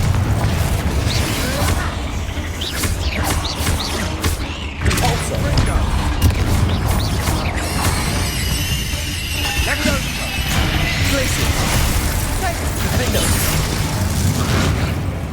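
Confringo explosive spell blasts going off in the Hogwarts Legacy video game, with booming bursts and crashes layered over continuous game music and voices.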